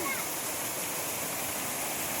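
A waterfall roars as a steady, dense wash of falling water, close and continuous throughout, with no clear voices standing out.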